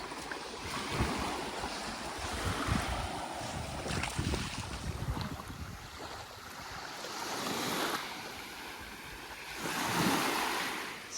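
Waves break and wash onto a beach in Labuan Bajo, Flores, Indonesia, rolling in several slow surges with wind buffeting the microphone between them.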